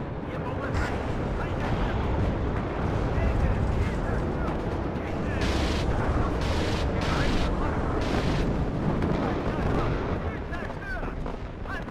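A MiG-21 bombing a building in the video game WARNO, a dense, continuous roar of heavy explosions and gunfire with bursts of distant blasts layered over each other, loud and unbroken.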